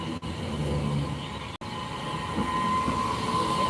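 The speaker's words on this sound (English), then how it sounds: "The train is inspired on the trains from Switzerland," A garden model railway train styled after Swiss trains runs steadily and close by, a continuous rolling rumble with a faint high whine, briefly cut twice by short dropouts.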